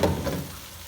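Fish fries in a spice masala in a kadai, a short burst of soft sizzling and stirring that fades quickly, quiet and close with no voices.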